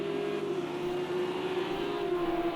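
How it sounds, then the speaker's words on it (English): Engine of a GT3 race car revving in Project Cars 2 during an online league race at Watkins Glen, a steady droning whine holding close and loud throughout with slight pitch wavers. "Just heard the engine rev up."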